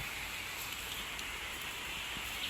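Steady light rain falls around a hemp grow house, a continuous even hiss with no voices.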